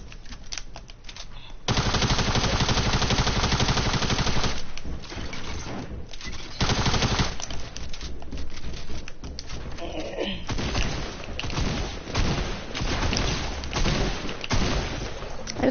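Rapid bursts of gunfire and explosive thumps from a grenade launcher in the Fortnite video game, loud and nearly continuous with brief lulls, a voice speaking at times underneath.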